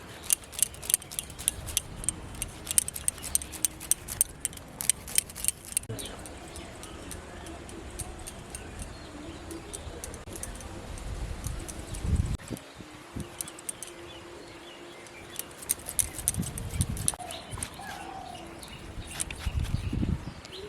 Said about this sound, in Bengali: আলুটাকে আমি এই আলু কুড়ে নেবো একটু।